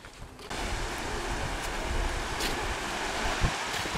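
Sea waves wash onto a beach at the far end of a Cuban archipelago, a steady broad rush of surf mixed with wind buffeting, with no voices.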